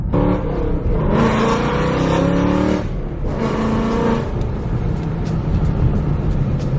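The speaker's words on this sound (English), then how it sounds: "It's been a while since I stepped on it with this car." A Ford Mustang engine roars loudly as it accelerates hard, revving up twice in strong surges before settling into a steady drone.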